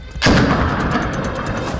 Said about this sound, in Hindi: गोलियां चल रही थी, ग्रेनेड फट रहे थे